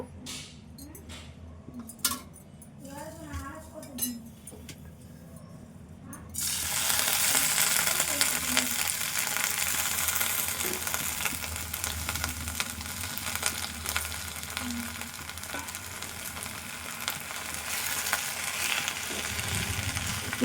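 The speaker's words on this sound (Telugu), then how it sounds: "ఇందులో కొంచెం ఆయిల్ వేసి గోంగూర వేంపుకుందాం ఫస్ట్" Gongura leaves sizzling and frying in oil in a pan, a steady loud sizzle that begins abruptly partway through after a few quieter handling clinks and stirs, continuing alone to the end.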